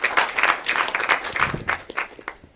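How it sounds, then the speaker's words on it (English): An audience at a summit claps for a speaker, loud, even applause close by that thins toward the end. "Ladies and gentlemen, can we give her a round of applause?"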